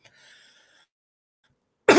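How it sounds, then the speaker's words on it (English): A single sharp cough bursts out close and loud at the very end, after a faint stretch of faint hum and near silence. "I don't know why the ass I'm coughing all of a sudden."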